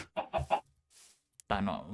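A chicken clucks in Minecraft, three quick close clucks, then a brief pause and a longer squawking cluck, fairly faint with no talk over it.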